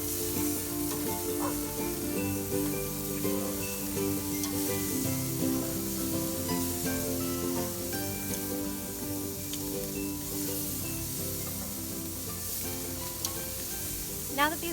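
Garlic shrimp sizzle steadily on a grill, a continuous close frying hiss with faint scraping and small clicks as the pieces are flipped.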